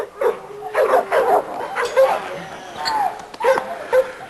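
A small dog barks and yips repeatedly in short bursts with some whimpering, close by and fairly loud, while a person talks in between.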